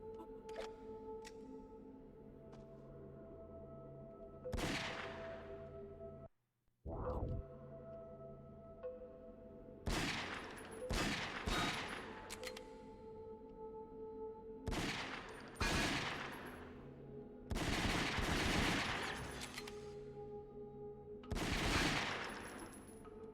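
Gunfire in the PS2 video game Ghosthunter while shooting rats: sharp bursts of shots crack out repeatedly over a steady game background hum, spaced irregularly with a brief silent gap partway through.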